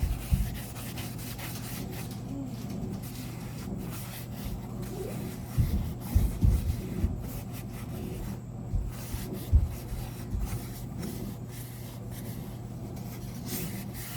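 A hand rubs oil into a wooden kitchen spoon, giving soft, continuous scrubbing and wiping friction at close range with small irregular bumps, heard alone without talk.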